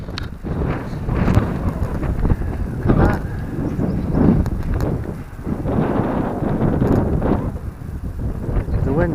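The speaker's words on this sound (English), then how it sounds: "The wind's come up." Steady wind buffets the microphone outdoors in bad weather in Monsal Dale, a continuous rough rumble with gusty swells throughout, with a person talking over it at times.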